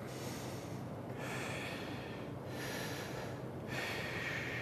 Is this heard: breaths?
yes